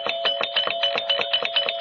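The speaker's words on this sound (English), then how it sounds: "I think I detect her gentle touch on the doorbell" A doorbell in a house rings close and clear as a rapid string of bright, evenly spaced electric chimes that repeats without pause.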